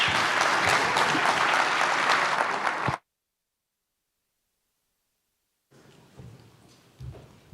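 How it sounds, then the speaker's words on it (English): A panel audience breaks into loud, sustained applause for about three seconds, cutting off abruptly, followed by silence and then faint room noise with soft shuffling. "let's give them a round of applause"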